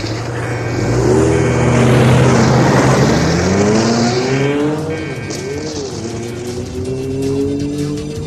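In a radio drama sound effect, a jeep speeds away with a loud revving engine and squealing tires, the pitch climbing and shifting as it accelerates, close and dominant with no speech.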